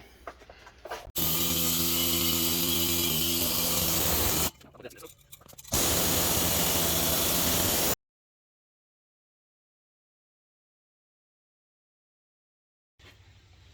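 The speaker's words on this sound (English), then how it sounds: "I'll hit that with a flat disc real quick" A flap disc grinds metal on a truck's axle knuckle with a loud, harsh roar in two long bursts with a short pause between, then cuts to silence before faint noise returns.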